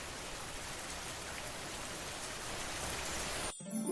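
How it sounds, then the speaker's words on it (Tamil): Heavy rain pours steadily in a dense, even roar with gusting wind in a children's storm story, then cuts off abruptly near the end. "காற்றும் கனமழையும் சேர்ந்தது."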